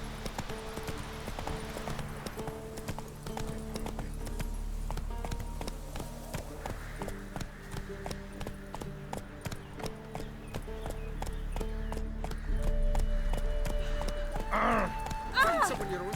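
A horse gallops in The Witcher 3 video game, its rhythmic clip-clop hoofbeats running steadily throughout alongside game music and ambience, with a brief neigh near the end.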